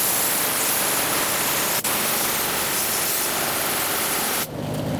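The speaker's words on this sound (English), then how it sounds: "I'm going to use some more compressed air now before all of this actually comes up." Compressed air hisses in a steady, loud broadband blast, clearing debris off the fuel pump of a 2008-2010 Ford F-250 with the 5.4L engine, with a brief dip near the two-second mark before the flow cuts off abruptly near the end.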